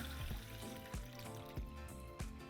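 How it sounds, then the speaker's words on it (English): Water pours from a tap into a pot holding dried ancho and guajillo chiles, a close, steady splashing fill with a few brief surges and no talking. "we're going to cover them with water."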